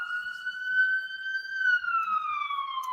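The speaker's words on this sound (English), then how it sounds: "Sorry, ambulance." An ambulance siren wails faintly from a distance, a sustained tone that holds steady then slowly falls in pitch as it passes.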